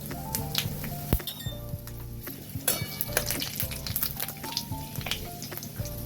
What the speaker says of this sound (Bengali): এই গরম তেলেই 5 ফোড়ন আর একটা শুকনো লঙ্কা ফাটিয়ে দিয়েছি